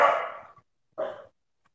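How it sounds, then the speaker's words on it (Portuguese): A dog barks twice, the two short, mid-pitched barks separated by a brief pause, heard from a home setting with no talk over them. "Cachorro latindo."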